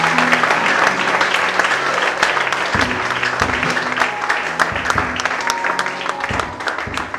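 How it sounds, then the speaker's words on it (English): Congregation in a church clapping for themselves, steady full applause throughout with a sustained organ or keyboard chord beneath and some crowd noise mixed in. "Can you clap for yourself?"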